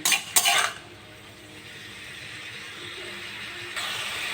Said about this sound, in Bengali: এবার গ্যাসের ফ্লেমটা বাড়িয়ে চাল কুমড়োগুলো দু মিনিট ভালো করে একটু ভাজা ভাজা করে নেবো